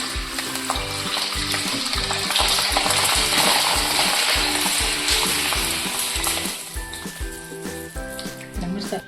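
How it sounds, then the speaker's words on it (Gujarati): Green chillies fry in hot oil for bhajiya, giving a steady, fairly loud sizzle and crackle that lasts throughout, with background music playing underneath. "હવે આપણું તેલ ગરમ થઈ ગયું છે પહેલાં હું મરચાં તળી દઈશ"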